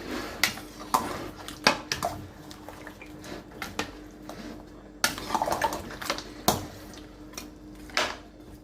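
A cooking pot of boiling plantains for a Cameroonian kondre handled at close range, with repeated metallic clanks and scrapes of pot and lid in irregular bursts, loud and alone with no talking.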